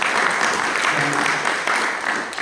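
Church congregation applauding during a Sunday worship service, a dense continuous clapping wash that stays loud and steady throughout, with a faint murmur of voices beneath.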